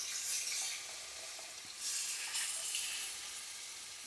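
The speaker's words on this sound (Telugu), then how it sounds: "మనం ఇది పోసేద్దాం ఇది చింతపులుసు రసం" Tamarind juice poured into a hot pan for an egg curry, a loud hissing sizzle that swells, eases and flares again, close by with no voices.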